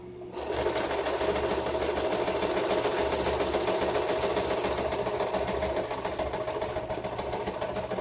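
A sewing machine runs steadily for several seconds, stitching through the pages of an altered book, with a continuous close mechanical whir and rapid needle chatter and no talking.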